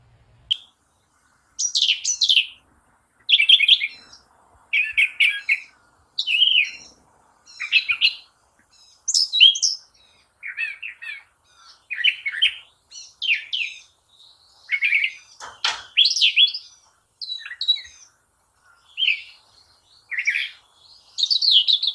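A wren-like bird with a long cocked tail sings a long, complex string of musical phrases, bright warbled bursts repeating in quick succession with short gaps, clear and alone.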